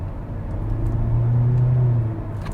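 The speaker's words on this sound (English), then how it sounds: "it is responsive with the CVT. Of course, it's going to rev it out." A 2023 Hyundai Elantra Limited with a CVT in sport mode revs up, its engine rising into a steady, loud droning hum that holds briefly before easing off.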